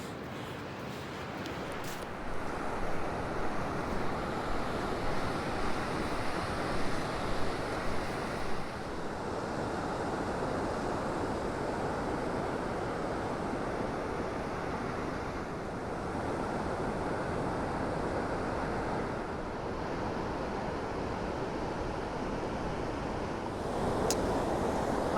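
Ocean surf rolls onto Rialto Beach in Olympic National Park, a continuous broad wash of breaking waves with wind buffeting the microphone, steady and enveloping throughout.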